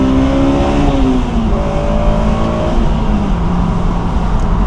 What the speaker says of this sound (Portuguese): Esse ronco de admissão, isso aí vai mudar muito ainda, pessoal.